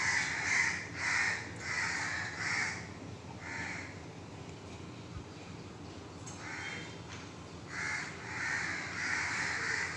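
Repeated harsh crow caws in bursts, several calls in a row, a pause, then more cawing over steady outdoor morning background noise.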